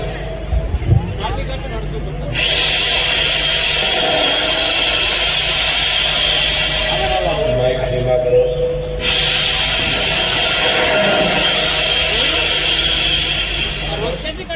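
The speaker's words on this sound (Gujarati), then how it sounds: "ચેન્સો નો ઉપયોગ કરવામાં આવે છે." A full light chainsaw cuts wood in two long, loud, high-pitched whining bursts separated by a brief pause, with faint background activity.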